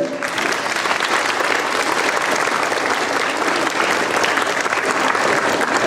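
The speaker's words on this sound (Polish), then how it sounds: "Wielkie brawa dla nich" Sustained applause from an audience at a primary school year-end ceremony in Konstantynów, steady and dense throughout without a break.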